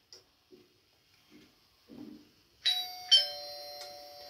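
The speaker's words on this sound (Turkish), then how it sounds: "evet çalıyor zil." A battery-powered wired doorbell rings with two bright chime tones, the second following shortly after the first, fairly loud and close, preceded by a few soft clicks and handling noises.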